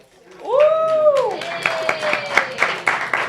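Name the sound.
audience applause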